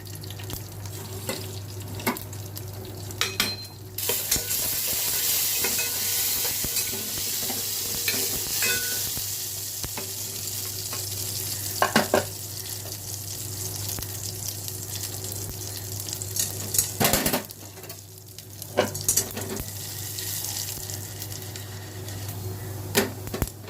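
Mustard seeds, urad dal and cumin frying in a small amount of oil for tempering, a bright crackling sizzle with sharp spattering bursts and clinks, over a low steady hum, no speech.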